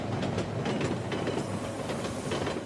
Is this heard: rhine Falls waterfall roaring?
no